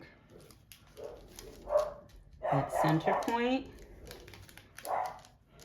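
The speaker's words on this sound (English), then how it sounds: "You might hear my dog in the background." A dog barks a few times, a little distant, while a person speaks quietly nearby.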